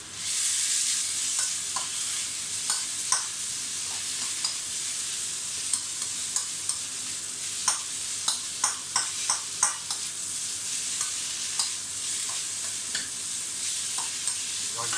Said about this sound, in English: I'm going to add in some my garlic oil as well, and you're going to stir fry them